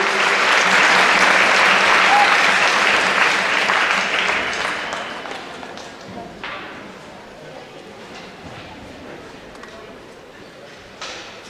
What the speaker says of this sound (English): Kiddos, give your parents a big round of applause.